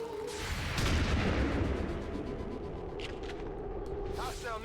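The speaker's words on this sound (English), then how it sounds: "The shockwave of that explosion reverberated throughout most of the city." Explosion in the video game XCOM 2 rolls out as a loud, sustained low boom with broad rumble and debris noise, followed by fainter crackles and small bursts.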